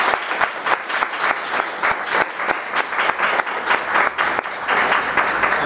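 Warm, sustained clapping from an audience gathered in a community hall in the Govanhill Baths building, steady and fairly close, running throughout without talk.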